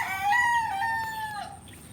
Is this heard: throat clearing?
no